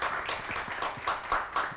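An audience applauds a presenter after a talk on ethics and artificial intelligence, the claps forming an uneven patter of fairly close hand strikes that runs steadily through the short span without voices.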